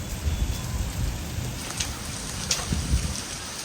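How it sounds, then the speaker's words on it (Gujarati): Raindrops fall steadily during a heavy monsoon downpour, a dense, even patter with a few louder drips close by. "છાંટા પડે છે"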